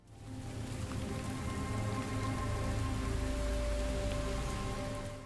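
Steady rain in the first-person horror game Labyrinth of the Demon King hisses across a surface at an even level, with a low rumble underneath and no voices.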